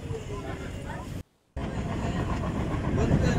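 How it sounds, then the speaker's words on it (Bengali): A train crossing the Rajasthan desert toward Munabao makes a steady rumbling roll, heard from on board, broken briefly by a moment of near silence before the rumble resumes. "মরুভূমির মধ্য দিয়ে এই ট্রেন যায়।"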